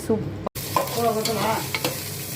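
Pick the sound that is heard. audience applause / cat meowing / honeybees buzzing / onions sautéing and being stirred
onions sautéing and being stirred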